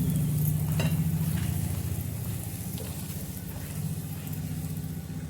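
A chapati roasts with oil on a hot pan, making a steady close sizzle over a low hum with a few light scraping touches and no voices.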